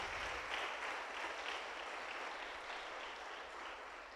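A congregation at an Easter Sunday church service claps steadily, a dense, even wash of applause that holds for several seconds without a break.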